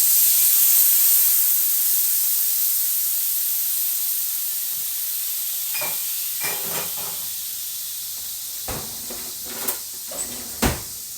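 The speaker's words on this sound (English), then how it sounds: "We're going to deglaze the pan." Red cooking wine poured into a hot skillet with butter, giving a steady loud sizzling hiss that slowly fades, followed by a few sharp knocks and clacks of a utensil or pan near the end.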